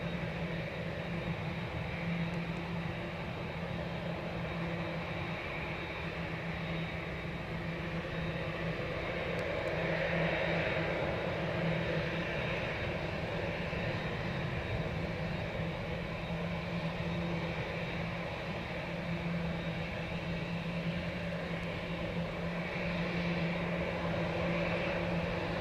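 A Delta airliner on approach to runway 25 at Montego Bay, Jamaica, gives off a steady, continuous engine roar with a broad rushing hiss that swells slightly midway. Nobody speaks.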